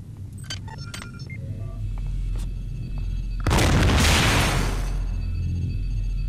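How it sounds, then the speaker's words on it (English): A heavy explosion booms out in the video game System Shock 2, a sudden loud blast that follows scattered clicks and beeps and then decays over a couple of seconds above a constant low game drone. "random explosion"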